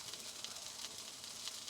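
Eggplant stir fry sizzling in a pan over medium heat, a steady, soft hiss of frying with faint crackles and no talking.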